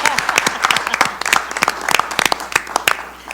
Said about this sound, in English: Let's all give them a round of applause for their birthdays for this month.